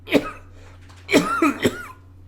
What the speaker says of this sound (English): See, now I'm coughing again.